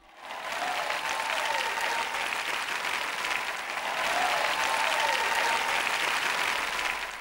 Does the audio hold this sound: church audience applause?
yes